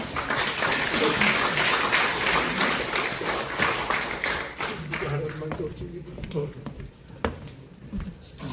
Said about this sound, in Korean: 큰 박수로 한번 모시겠습니다.